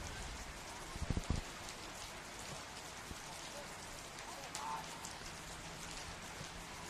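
Steady rain falls at an outdoor football ground during a night match between Dandenong Thunder and Green Gully, a dense constant hiss with scattered drops, a faint commentator's voice beneath it.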